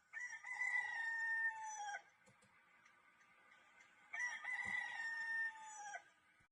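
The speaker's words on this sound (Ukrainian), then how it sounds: "Правильно, півник." A rooster crows twice, each long call lasting about two seconds, separated by a quiet gap; fairly faint overall.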